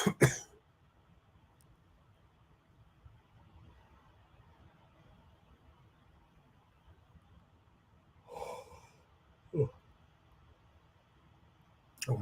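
A person coughs and clears their throat a few times in a quiet room, with one burst at the start, a breathy rasp midway and sharp coughs near the end, separated by long near-silent stretches.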